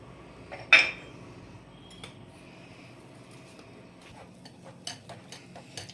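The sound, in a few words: mixing cake batter with baking powder and soda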